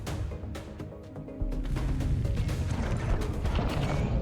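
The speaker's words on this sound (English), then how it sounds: "this missile might accidentally damage and destroy" In the sci-fi turn-based card battler Breachway, a missile strikes a ship's cannon with a run of sharp, loud metallic impacts and crashes, followed by a heavier, sustained blast rumbling beneath repeated hits.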